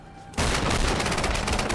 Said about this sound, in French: Oh, là, ça tire.